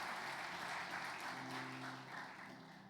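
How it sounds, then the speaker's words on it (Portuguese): Steady applause from a church congregation during a Portuguese-language sermon, a dense even wash of clapping throughout, with faint sustained tones underneath. "Aplauda Ele, alguém deu uma palma aí"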